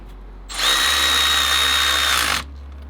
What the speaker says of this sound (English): Let's make easy work of this with this new ratchet.